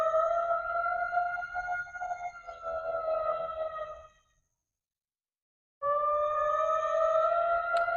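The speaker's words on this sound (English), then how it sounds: "So we got like a siren right now. It's like a weather advisory." A weather advisory siren wails steadily with sustained harmonic tones during a rainy week, cutting out for about a second and a half midway, then resuming just as loud.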